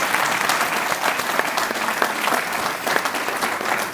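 An audience at a policy report launch applauds panelists with steady, dense clapping from a roomful of people, sustained evenly throughout.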